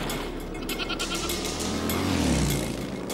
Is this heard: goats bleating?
yes